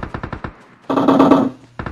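Rapid bursts of video game gunfire, a quick volley of shots followed by a longer sustained rattle, then more shots starting up again.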